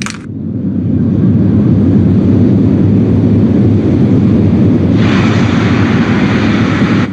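A Soyuz rocket lifts off from the Baikonur launch pad, its liquid-fuel first-stage engines producing a loud, continuous, distant roar that builds within the first second and holds steady throughout.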